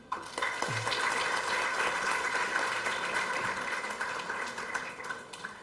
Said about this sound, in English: let's give us a huge round of applause for professors and everyone sitting here